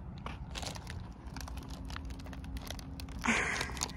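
A young child munches crisps close by, with crunchy bites and crinkling of the packet in a quiet, faint setting.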